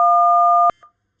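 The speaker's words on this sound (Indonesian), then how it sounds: "kita dapat mendengar suara seperti tombol telepon yang ditekan lah" Telephone keypad tones produced by a digital signal processing program: a steady dual-pitch tone held for most of a second, cut off abruptly, followed by a brief, fainter second beep.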